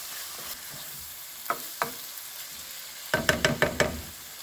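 A spoon stirs homemade chili in a pot after chili powder goes in, soft scraping under a faint sizzle, a couple of light knocks, then a quick burst of clattering scrapes near the end.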